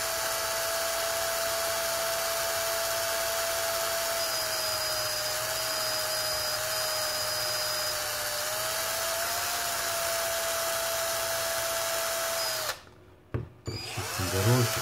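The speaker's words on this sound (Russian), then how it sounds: "Делаю вот так вот шуруповертом." A cordless screwdriver runs continuously and loud while cleaning a track on an LED lamp board, a steady high whine lasting many seconds before it cuts out and gives a few short stutters near the end.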